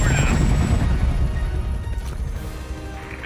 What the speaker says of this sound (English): Wait, I'm flying the helicopter?